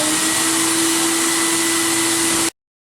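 Abrasive blasting on an M-5 restoration, a steady loud hiss with a constant tonal hum for about two and a half seconds, then a sudden cutoff to silence.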